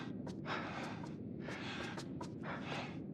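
Several people panting and gasping heavily, out of breath, with sharp repeated breaths in quick irregular bursts over a steady noisy background, close to the listener.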